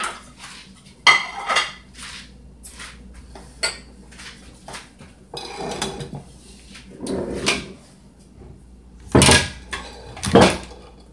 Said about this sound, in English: I'm gonna put those in my pan